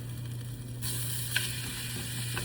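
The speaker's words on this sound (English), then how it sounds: "now we're gonna go let that one sear" Steak searing in a pan, a steady, fairly quiet sizzle with a constant low hum beneath it and a couple of faint clicks.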